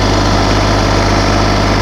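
An LS MT-122/125 compact tractor with backhoe attachment idles steadily nearby, a loud, even diesel drone with a constant low rumble and no change in pace.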